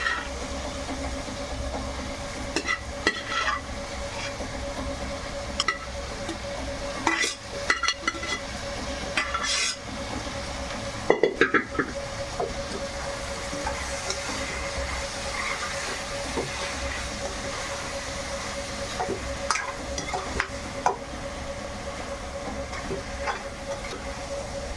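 Jackfruit vegetable stirred and frying in a pan, giving a steady low sizzle with scattered scraping stir knocks and clatters throughout, fairly close and continuous.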